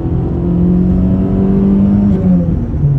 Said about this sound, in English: this twin spark engine has great torque. From down low.